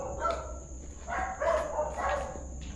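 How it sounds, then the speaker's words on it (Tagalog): Several dogs bark in uneven bursts a short distance away, overlapping one another against a faint steady hum. "Ang ingay ng mga aso"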